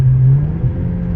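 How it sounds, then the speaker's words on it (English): A 420 hp 2019 Volkswagen Arteon accelerates as its turbos kick in, a loud, close engine drone with a rising tone, heard briefly and on its own. "It just has a little bit of a turbo lag, but once those turbos hit"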